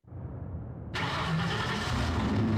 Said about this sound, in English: The flames were highlighted on the hood of a black Mercedes-Benz as it coasted down the street real slow